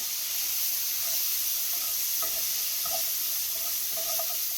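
Garlic sizzles in a pan with bacon, a steady hissing fry with small intermittent pops and crackles, moderately quiet and close, with no talking.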